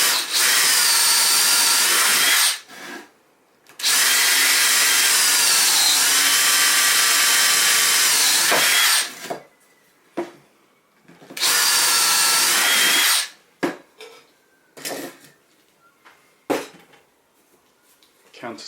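A power drill countersinks holes in a wooden workshop cupboard made from a WWII 6lb anti-tank gun chest, running in two long loud bursts with short pauses. Brief clatters and shorter whirs follow.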